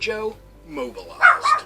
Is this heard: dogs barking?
yes